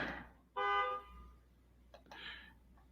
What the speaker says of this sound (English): is a car honking outside